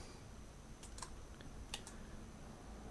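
A computer keyboard is typed on in a quiet room while a letter is entered in CorelDRAW: a few faint, sparse key clicks, two small clusters of taps close together against near silence.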